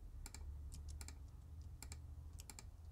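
Computer keyboard and mouse clicks while working in Blender 3D, a scattered series of soft, sharp taps at an irregular rhythm over a quiet background hum.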